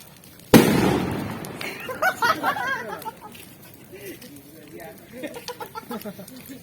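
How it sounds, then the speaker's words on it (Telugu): A single loud firecracker bang rings out during Bhogi festival bonfire celebrations in Gundla Palem, then people talk and call out excitedly afterward. "టపాసులు కూడా కాలుస్తున్నారు మా వాళ్ళు"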